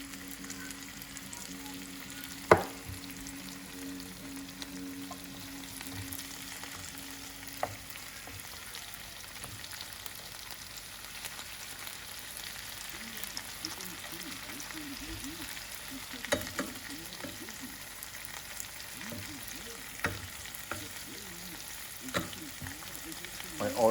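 Steady frying and sizzling of wood-boring beetle larvae in olive oil fills the whole stretch, a constant crackling hiss with occasional louder pops and faint stirring.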